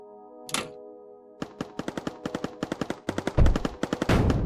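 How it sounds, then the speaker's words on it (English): Rapid bursts of gunfire in a factory tower defense video game, a sharp single shot followed by a long, slightly uneven string of loud repeated shots, ending in a denser rumbling burst, with no talking. "Hey, stop shooting me, you bastard."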